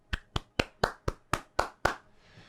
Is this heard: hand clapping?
yes